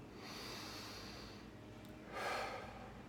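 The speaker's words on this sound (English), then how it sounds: "Take 3 breaths on that." A slow, deep breath drawn in and let out during a quiet guided exercise, a soft airy hiss swelling near the mic and then a stronger exhale near the end, with no talking.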